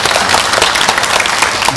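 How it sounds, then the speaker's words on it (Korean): A film festival audience at a Q&A screening event in Bucheon gives a short burst of loud, close, dense clapping that runs the whole moment without talk. "하여튼 다시 한번 박수 부탁드립니다."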